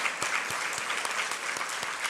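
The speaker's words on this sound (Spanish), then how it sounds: "Dale un aplauso al Señor." A church congregation applauds during a sermon, a steady dense patter of many hands with a few sharper individual claps standing out at a regular pace.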